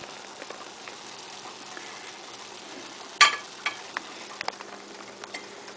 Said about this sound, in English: Make a ball. Drop it into the oil.